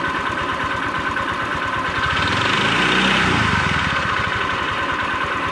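A Honda Vario 125 scooter engine idles right after an oil change, giving a steady, smooth mechanical hum close to the microphone that holds an even level throughout with no voices.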